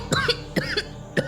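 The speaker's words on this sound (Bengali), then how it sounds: "একটা টান দেয়, দিয়েই কাশতে থাকে।" Three short, close coughs come in quick succession after a drag on a cigarette, each a sharp, rough burst with brief pauses between them.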